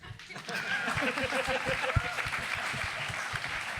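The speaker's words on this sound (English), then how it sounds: "Go ahead, clap." Audience clapping at a career alumni panel, a broad patter of hands building quickly and holding steady while voices talk and cheer over it.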